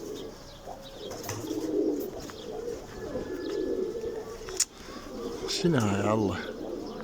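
Pigeons kept in a home loft, a yellow male and grey birds among them, coo in a few low, rolling calls that swell near the end of the clip. Someone talks over the birds in Iraqi Arabic, with light outdoor background sound.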